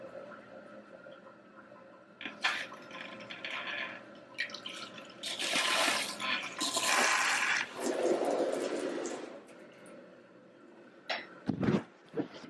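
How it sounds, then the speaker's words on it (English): A newly installed bidet on a bathroom toilet in a small apartment sprays water. A quiet trickle swells into several hissing bursts of spray lasting a few seconds, followed by drips and a short splash near the end. "let's test out the bidet"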